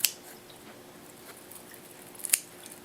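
Scissors cutting through harvested microgreens and sprouts, two sharp close snips about two seconds apart with faint rustling between them.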